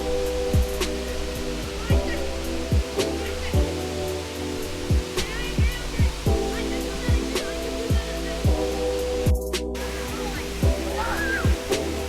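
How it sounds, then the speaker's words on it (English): Horsetail Falls, a waterfall in Oregon, roaring as a steady broadband rush of falling water heard from nearby, with people talking over it and occasional clicks and bumps. "We made it to our very last waterfall of the day. It is called Horsetail Falls."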